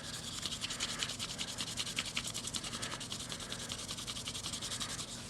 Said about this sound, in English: So I'm just going to try and get some of the rust off of that edge there.